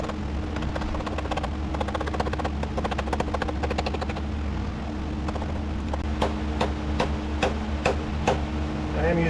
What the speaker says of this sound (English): I am using the hammer just to get it in as far as I can